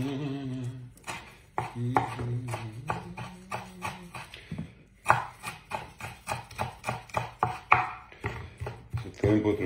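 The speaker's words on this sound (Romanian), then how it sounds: "tăiem pătrunjelul un pic" A knife chops parsley on a board in a steady series of sharp, close taps, quickening into an even rhythm partway through, with a short hum of voice or background tone under the first strokes.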